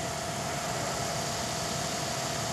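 The small motors of a WL Q212 FPV quadcopter idle on the ground, giving a steady, even electric whir with a thin constant tone, fairly faint and heard alone without talk.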